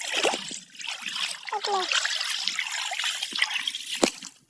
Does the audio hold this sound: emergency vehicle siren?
no